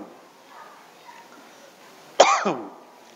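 A single loud, close cough bursts out and trails off after a stretch of quiet room tone, followed by the start of another sound at the very end.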